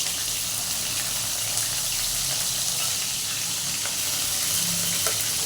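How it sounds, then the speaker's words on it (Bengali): Chopped onions frying in hot oil in a kadai, a steady, close hiss and sizzle throughout with faint clicks of stirring. "এই পেঁয়াজ কুচিটা একটু দিয়ে পেঁয়াজটাকে একটু ভেজে নেব"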